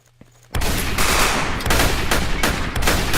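Video game gunfire starts abruptly after a brief quiet moment, then loud rapid bursts of automatic shots hammer on close by with short gaps between volleys.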